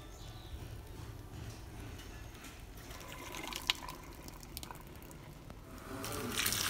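Water is drained from cooked chestnuts, pouring and splashing steadily, a soft continuous rush with occasional drips, growing a little louder toward the end.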